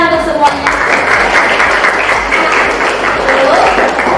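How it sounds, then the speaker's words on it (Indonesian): A classroom of students applauds all the presenting groups, dense clapping starting after a brief spoken phrase and continuing steadily to the end. "Ya, tepuk tangan untuk semuanya."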